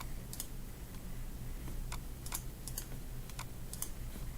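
Keys clack in short irregular bursts on a computer keyboard while a link is typed, fairly faint over a steady low hum of room and machine noise.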